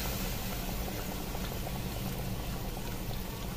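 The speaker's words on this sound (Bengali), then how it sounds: "তো জল দিয়ে দিচ্ছি।" Water pours into chicken curry cooking on a clay stove, a dense, continuous rushing and bubbling wash that stays even and fairly quiet throughout.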